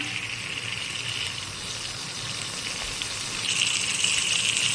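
Pointed gourd (potol) frying in a pan gives a steady, even sizzle with a faint watery hiss, constant and close without voices.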